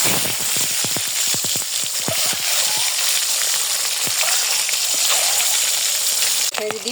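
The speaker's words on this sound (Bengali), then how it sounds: "এই যে ডিমটা একটু ভেজে নিচ্ছি সবগুলা" Eggs fry in hot oil in a wok with a bright, steady sizzle, broken early on by a quick series of sharp spatula scrapes and taps, all close and loud.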